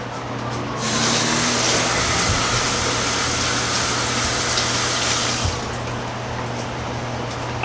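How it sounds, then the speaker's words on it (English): Roma tomatoes are rinsed under a running kitchen tap, a loud steady rush of water that starts after a brief pause and continues for about five seconds before easing, close and with no one talking. "I'm going to rinse them off, wash them off very good."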